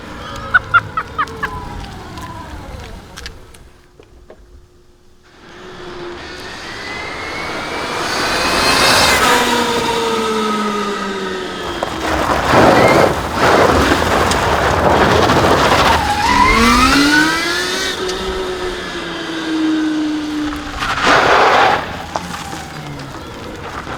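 Old Kewet electric microcar fitted with a swapped 80 horsepower motor accelerating hard, its loud whine rising in pitch over and over as it speeds past close by, with wind and road noise underneath.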